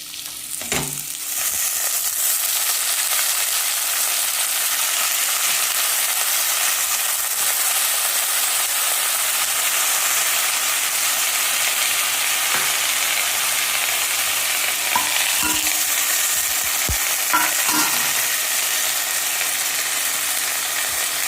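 Millet dry-roasting in a pan while being stirred, a steady close sizzle and hiss running throughout with occasional scraping clicks from the spoon, no voices.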